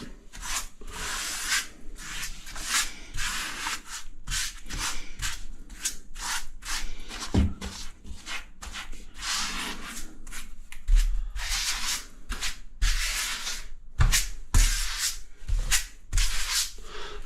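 Grout is worked along the top edge of a skirting tile with repeated rubbing and scraping strokes, close and fairly loud, in irregular bursts with brief pauses and no speech.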